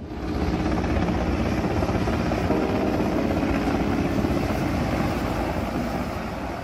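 A helicopter flies close by with a loud, steady whir of rotor and engine that holds its level the whole time and fades slightly at the end.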